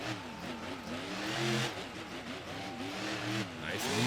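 A monster truck engine revs hard and repeatedly through a freestyle run in an Anaheim arena, rising and falling in pitch at mid distance, with crowd and arena noise underneath.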